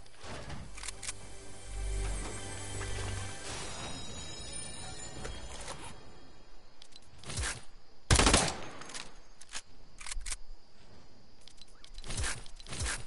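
Gunfire from a newly picked-up gun in a PS4 shooter, a steady crackle of rapid automatic shots in the first half, then sparser loud bursts and a few isolated cracks.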